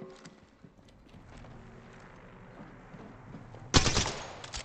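Video game gunfire from a competitive tournament match: a quiet stretch of faint game ambience, then a loud burst of shots near the end, trailing off in a few quieter reports.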